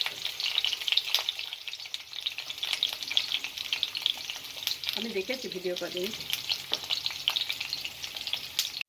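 Fish fries in a pan with a constant, busy sizzle, while a voice speaks briefly over it midway.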